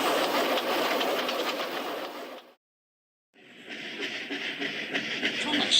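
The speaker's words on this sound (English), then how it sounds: "And he puffed off to the junction." A steam locomotive on a railway gives a steady, rushing chug with a hissing edge. It cuts out to silence for about a second midway, then resumes brighter and hissier.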